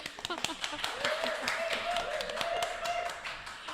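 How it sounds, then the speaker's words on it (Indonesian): A crowd claps for Universitas Advent Indonesia over continuous voices, and a sustained tone rings through the background. "Tepuk tangan."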